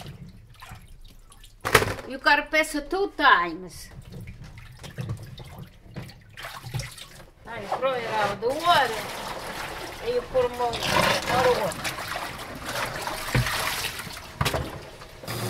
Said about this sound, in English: You know, you gotta wash nice in the water, see?